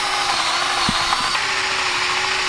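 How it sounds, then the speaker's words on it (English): Power drill boring holes through a pipe and wood while turning a bathtub into a boat: a steady, loud motor whine runs throughout, close up, with a couple of brief knocks partway through and no speech. "We gotta drill holes through the pipe, drill holes through the wood,"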